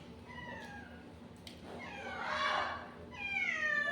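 Several cats meow in a residential neighborhood where stray cats are fed leftover fish bones, with a few overlapping mid-distance meows rising and falling across the moment, the loudest in the middle and another near the end.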